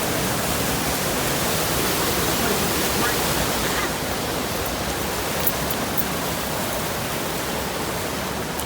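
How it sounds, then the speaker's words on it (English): A forest waterfall roars in a steady, loud wash of broadband rushing water that runs unbroken from start to finish. "We're in a waterfall, Luna Bear"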